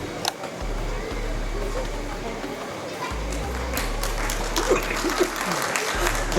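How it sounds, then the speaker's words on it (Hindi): Seminar audience at a wellness product launch event claps as a dense, continuous patter throughout, with a low hum of fans or air conditioning underneath. "ताली बजाना है तो ऐसे बजाइए कि लगे कि हम लोग अपने लिए बजा रहे हैं"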